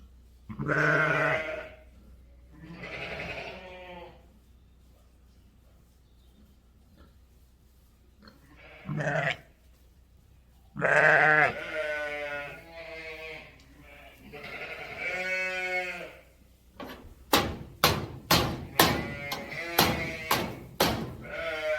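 Sheep bleat loudly several times nearby, then a rapid series of sharp knocks and bangs follows in quick succession as a sheep bangs on a gate.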